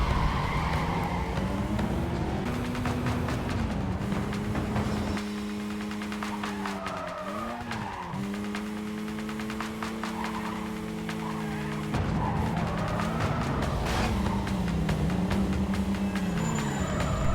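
A Mazda RX-8 racing through a canyon in Need for Speed Carbon, its engine droning and shifting pitch continuously with tyre squeals and skids, loud and close throughout.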